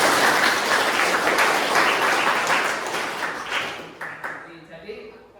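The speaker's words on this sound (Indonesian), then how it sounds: "kita kasih aplaus dulu untuk kelompok 3" A group of students at a university class claps for one group, a dense burst of applause that slowly thins out into scattered claps over about five seconds.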